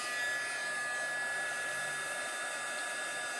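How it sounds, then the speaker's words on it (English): A hair dryer blows steadily over wet paint on an art piece, a constant close whirring hiss with a faint high whine, running alone without talk. "I'm going to go ahead and dry it with my dryer"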